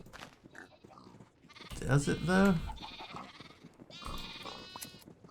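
A sheep in Minecraft bleats in a loud, wavering cry in the middle of the clip, with softer game sounds around it and someone talking briefly nearby.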